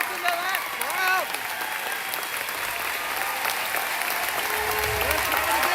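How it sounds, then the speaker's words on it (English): A large rally crowd for Bernie Sanders in southern West Virginia applauds and cheers steadily and loudly, with whoops rising over continuous clapping as a voice talks over the noise. "Listen to that crowd, would you?"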